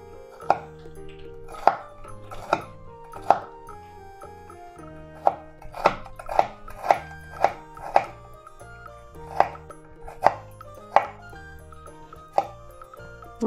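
A knife cuts potatoes into slices for homemade chips, landing in sharp, distinct chops on a board at an uneven pace. The chops sound close and clear over quiet background noise.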